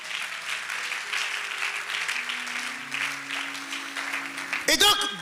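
Church congregation applauding for Jesus during a sermon, a steady wash of clapping hands that carries through and then breaks off near the end with a brief louder burst.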